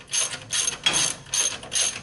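A ratchet wrench tightens the sway bar bolts on a Toyota Tacoma in four quick clicking bursts, each a rapid run of pawl clicks with short pauses between, close and clear with no voices.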